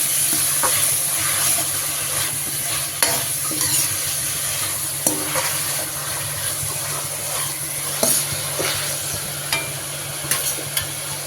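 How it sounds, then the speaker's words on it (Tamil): Tomatoes sauté in oil in a pan for noodles, sizzling steadily while a spoon scrapes and stirs in intermittent sharp clicks, loud and close with a faint steady hum underneath and no speech. "தக்காளியை நல்லா வதக்கணும்"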